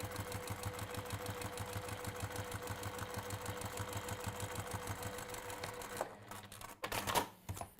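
A sewing machine stitching fabric, a fast, even mechanical rhythm running for about six seconds before stopping, followed by a few handling knocks and rustles, close and alone.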